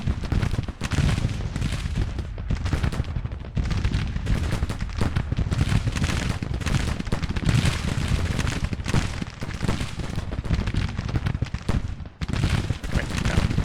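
Artillery opening fire in the Civil War strategy game Grand Tactician: The Civil War, a steady barrage of many overlapping booms and cracks, dense and continuous with a few brief lulls.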